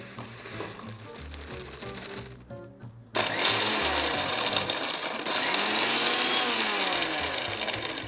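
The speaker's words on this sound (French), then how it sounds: "on va pouvoir le mixer légèrement pour avoir des plus petits morceaux" An electric blender pulses baked crumble into smaller pieces in bursts, a loud whirring motor cutting out briefly, then starting again with a steady, gritty grinding.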